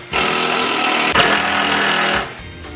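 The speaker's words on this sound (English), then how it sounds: "So I'm gonna go in and remove the two OEM bolts using this driver and this bit." A power driver whirs hard in one sustained two-second burst, with a brief catch partway through, while removing the OEM bed bolts from a 2018 Ford F-150 pickup. It then spins down and stops, with no talking.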